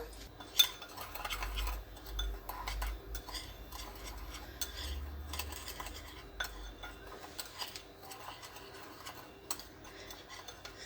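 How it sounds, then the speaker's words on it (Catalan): Sugar and cinnamon stirred together in a bowl with a utensil, giving light repeated ticking scrapes and clinks at a close, quiet level, with no voices. "el que farem serà barrejar el sucre amb la canyella"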